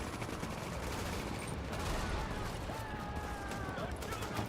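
Sustained automatic turret fire from a deployed turret in The Division on PC, a dense, steady rattle of rapid shots heard faintly and continuously throughout, with game voices in the background.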